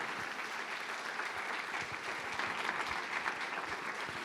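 A church congregation applauds during a service, steady dense clapping that fills the room at moderate level for several seconds without pause.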